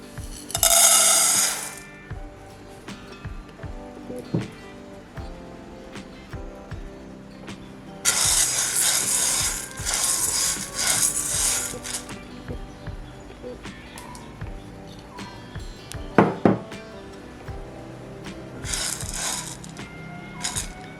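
Mung beans roasting in a pan for Sri Lankan mun kawum, with intermittent scraping, stirring and light metallic clatter of a utensil against the pan, moderately close, plus occasional bursts of sizzling hiss and no talking.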